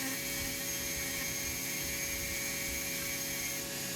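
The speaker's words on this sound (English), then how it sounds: "And now I'm carving in a heart in the middle of the cross. I'm using an inverted cone burr." A rotary tool fitted with an inverted cone burr carves a heart into a small pocket cross, giving a steady, faint high-pitched whine that continues without a break.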